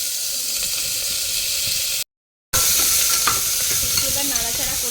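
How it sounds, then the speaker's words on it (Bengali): Potato pieces frying in hot oil with kalonji seeds and green chillies in a home kitchen pan, a loud steady sizzle with scraping stirs, briefly cut off then resuming with more spoon clatter. "এবার নাড়াচাড়া করে নিচ্ছি একটু, যাতে যদি আলুর গন্ধটা চলে যায় সেই জন্য একটু নাড়ানাড়ি করে নিচ্ছি"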